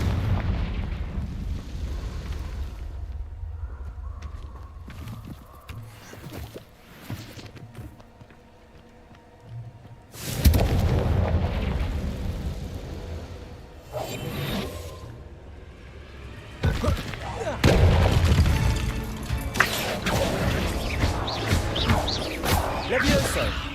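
Confringo fire spells in the Hogwarts video game go off as heavy booming blasts, several loud explosive bursts mixed with rumbling battle noise while a player talks over the action.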